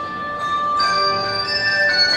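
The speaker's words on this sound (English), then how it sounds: "Bells, it's so nice." Bells rung by students performing at a Christmas party ring out in overlapping sustained tones, several clear strikes layering and decaying in a reverberant indoor room.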